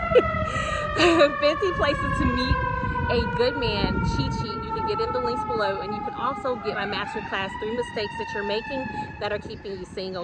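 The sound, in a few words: emergency vehicle siren passing outside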